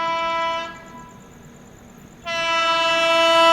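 Andhra Pradesh Express, running from Visakhapatnam toward New Delhi, sounds a loud sustained multi-tone horn that cuts out briefly mid-blast and then resumes, with rumbling rail noise beneath.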